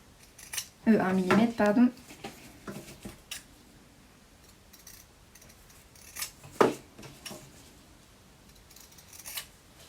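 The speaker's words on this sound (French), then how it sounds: "je me mets à 1 mm de la couture et je coupe le bord" Scissors snip along the fabric edge of a sewn face mask in a short burst of close crisp cuts, followed by a single cut later, with quiet speech in between.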